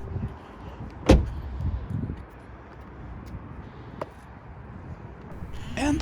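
A Kia car door slams shut once after the driver steps out, a single sharp thud standing out against a low outdoor rumble, followed by a fainter click a few seconds later.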